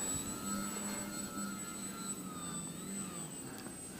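A Twisted Hobbys 32-inch MXS-C electric model airplane flying in moderate wind, its steady whining motor tone drifting in pitch as it passes overhead, over a constant background hiss.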